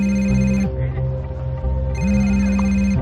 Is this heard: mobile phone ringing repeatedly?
yes